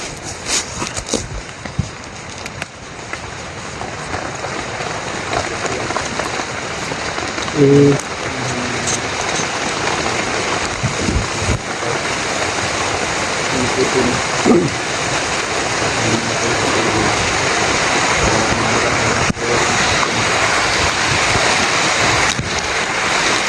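Steady, dense rain pours down continuously, a loud broadband hiss with occasional knocks and faint background voices.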